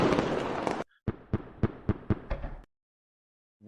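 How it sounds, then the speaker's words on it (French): Fireworks on a Twitch stream: a dense burst of crackling pops, then a brief gap and a string of about six sharp separate bangs, fairly faint, ending in silence. "En passant, Nick, on me fait remarquer que les feux d'artifice n'arrêtent plus sur Twitch"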